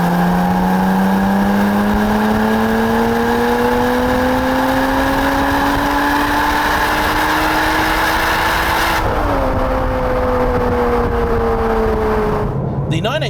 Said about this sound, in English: This comes from a time when a sports exhaust really made a difference,